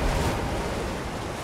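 A waterfall in the video game Elden Ring: Shadow of the Erdtree gives off a steady, dense rushing roar, loud and constant with no speech over it.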